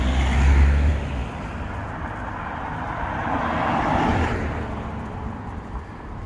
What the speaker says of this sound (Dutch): aankomst bus 19